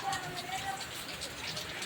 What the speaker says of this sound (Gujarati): બહુ મસ્ત અને સારો વરસાદ આવે છે જોરદાર વરસાદ આવે છે અત્યારે